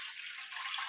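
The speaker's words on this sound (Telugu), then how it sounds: "కొంచెం వాటర్ వేసుకుంటున్నాను" Water being poured into a pot of rice, a brief steady splashing hiss heard close, with no talk.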